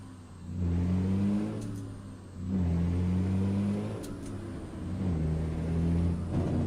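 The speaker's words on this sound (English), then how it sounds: "I know a cat engine when I hear it, baby." A Caterpillar C15 truck engine in American Truck Simulator drones at mid pitch, rising and falling in three repeated rev swells as the truck pulls through gears, steady and close with no talk.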